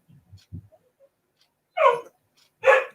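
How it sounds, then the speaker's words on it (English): Dogs barking indoors at home, two sharp barks separated by a pause after a few faint snuffles and soft sounds. "Bloody dogs. Fucking barking at thin air."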